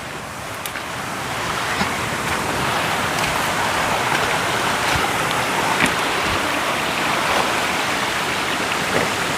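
Strong, fast creek water rushing steadily while someone wades across a stream in hilly countryside, a loud continuous churning wash with small splashes over it throughout.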